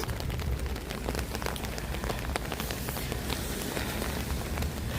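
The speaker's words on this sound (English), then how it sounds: "As I walk through the rain, the freezing rain morning" Freezing rain patters steadily and densely on a downtown Toronto street in Yorkville on a winter morning, a continuous hiss of drops hitting the pavement with no voices.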